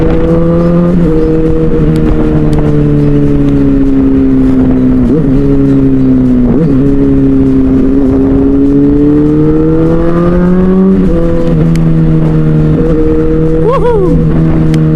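A big motorcycle ridden on a road toward Bogor, its engine droning loud and close with rising and falling revs through gear changes and wind rush, no clear talking.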